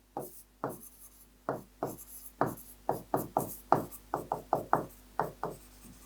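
Marker or chalk strokes on a classroom board, a quick series of about twenty short, crisp scratches and taps in uneven rhythm, close and alone with no talking.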